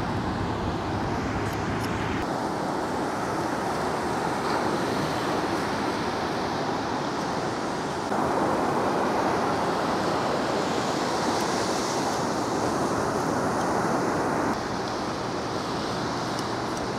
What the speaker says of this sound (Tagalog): hampas ng alon